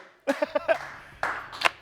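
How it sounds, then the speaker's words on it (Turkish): Sparse, half-hearted applause on a word game show: a few short vocal sounds, then a brief patch of scattered clapping that fades quickly. "Yine üzgün alkış."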